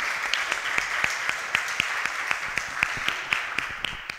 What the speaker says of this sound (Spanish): un aplauso para todas que nos reunimos hoy aquí para conversar.